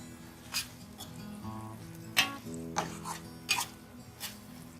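Washed moong dal lentils are stirred in a pot with soft-cooked tomatoes, giving several sharp spoon-against-pot clinks and scrapes spaced irregularly over a low background hum, fairly quiet and close.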